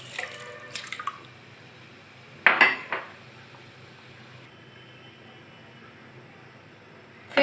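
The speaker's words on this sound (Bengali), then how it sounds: "এখন আমি দিয়ে দেব ধুয়ে ভিজিয়ে রাখা চালগুলো।" Washed, soaked rice goes into a pot of milk for shahi firni, with a few faint clinks and then a short, louder burst of pouring, splashing and scraping, followed by a quiet steady hiss.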